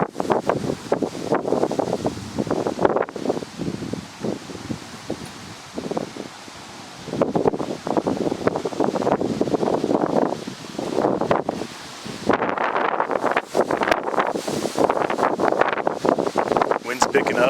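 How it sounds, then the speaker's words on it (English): Wind blowing outdoors at a farm after rain, a steady rushing and buffeting against the microphone with rustling bursts that rise and fall throughout, fairly loud and close. "Wind's picking up."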